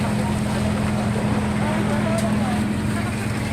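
Motorboat engine on an outboard-powered bangka heading out toward Calayan Island, a steady loud drone with constant wind and water noise throughout.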